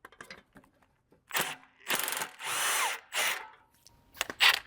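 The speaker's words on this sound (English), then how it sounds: "We're gonna take a 22 mil socket on our impact and try to get this bottom nut off." Impact wrench with a 22 mm socket spinning off the bottom nut of a control arm on a 2004-2010 BMW E83 X3, several loud close bursts of rattling hammering, separated by short pauses.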